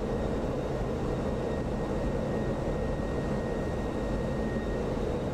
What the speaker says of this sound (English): Airplane's shaking like crazy.